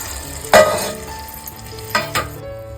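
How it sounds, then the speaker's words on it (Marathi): Crabs tossed into a pan of sautéed onion and garlic sizzle and fry, with a loud burst of sizzling as they hit the oil and two more stirring bursts later over a steady frying hiss. "आपला कांदा लसून व्यवस्थित परतावून झालेला आहे इकडे खेकडे घालून घेतलीच"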